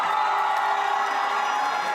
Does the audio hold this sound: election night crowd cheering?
yes